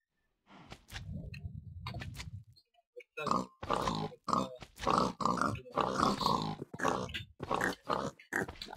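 Pigs in a farming video game grunt in a quick series of short, rhythmic snorts, close and fairly loud, after a brief stretch of low rumbling.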